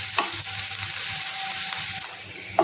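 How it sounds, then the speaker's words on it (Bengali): Ginger, garlic and onion frying in a pan, a strong steady sizzle with spatula stirring scrapes close by, a sharp knock at the end, no one speaking. "এবার আদা রসুন আর পেঁয়াজটা ভাজা হয়ে গেছে"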